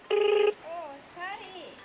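An office telephone at a health and wellness centre in Yachuli gives one short, loud electronic ring burst, heard close by. Soft indistinct voices follow afterward.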